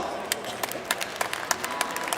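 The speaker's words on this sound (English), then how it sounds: "Give a big round of applause." Spectators at a lightweight horse pull competition clap in a thin, scattered round of applause, individual claps standing out faintly over an outdoor murmur.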